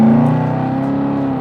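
A Jaguar F-Type, a rear-wheel-drive sports car, revs while driving: a loud, close engine note starts strong, then settles into a steady, rising drone with a throaty rumble.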